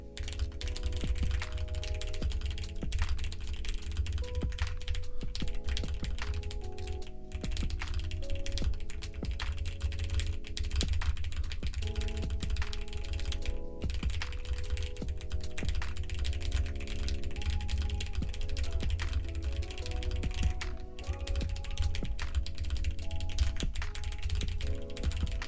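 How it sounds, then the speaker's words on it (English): Rapid typing on a computer keyboard during a live typing race, a steady dense patter of key clicks over a low hum, with no talking. "you can get fast typing with 2 fingers"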